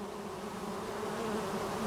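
Honey bees swarm and buzz at the entrance of a newly installed beehive box on a homestead, a dense, steady drone holding at one level throughout, close and loud with no voices.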